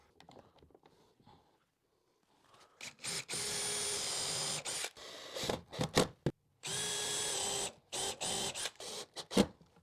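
Power drill driving screws into the wooden base of a large homemade Christmas tree, several sustained whirring bursts separated by brief pauses and clicks, close and loud, with no talk.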